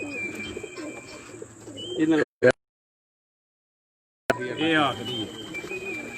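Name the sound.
pigeons cooing while landing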